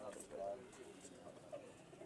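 A golden pigeon coos softly in brief low murmurs, faint and close, while someone talks over it.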